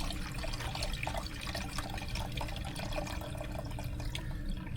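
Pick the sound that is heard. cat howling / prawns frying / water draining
water draining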